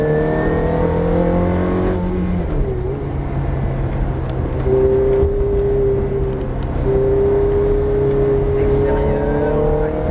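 A Ferrari's engine on a race track, loud and steady, its revs rising and then dropping back as the car lifts off the throttle, with someone talking over it.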